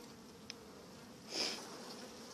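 Honey bees hum in a soft, continuous buzz as a hive frame is lifted out in an early spring allotment inspection, with a brief louder swell as a few bees pass close.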